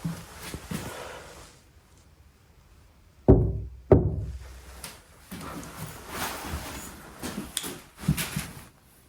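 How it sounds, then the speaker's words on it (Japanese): Two firm knocks on an interior wall of a triangular house thought to be haunted land close together as hollow thuds, followed by faint shuffling and quiet room noise. "ちょっとノックしてみようか。"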